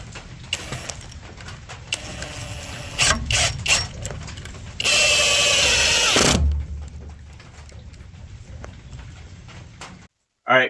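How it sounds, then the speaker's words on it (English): A drill drives screws into a 4x4 connector joining two beams in a barn, with one long whirring run amid clicks, knocks and rattling handling noises, and a voice talking at moments. "I'm gonna screw this in on all sides here."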